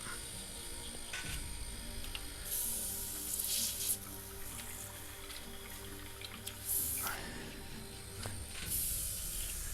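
An airbrush hisses in short bursts while being cleaned of metal flakes with water run through it, several sharp sprays spaced apart over a low steady background hum, close by with no talking.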